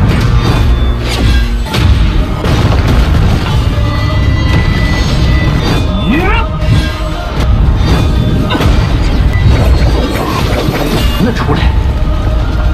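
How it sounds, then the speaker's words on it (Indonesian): Dense, continuous booming and crashing explosions from clashing weapons layered over a roaring background, with thuds and smashes piling up relentlessly. "Terjadi ledakan di mana-mana akibat peraduan senjata mereka."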